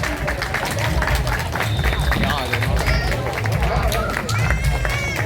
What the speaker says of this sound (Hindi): तालियां बजनी चाहिए, तालियां नहीं रुकनी चाहिए।